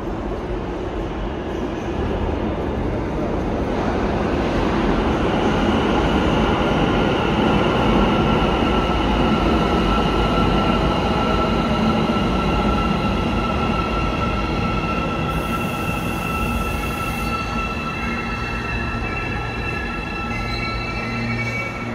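An Almaty metro subway train runs loudly and steadily for the whole stretch, with a continuous rumble of wheels on rail and a faint squeal. No one speaks.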